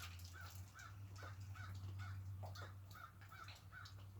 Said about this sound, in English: Crow off in the distance.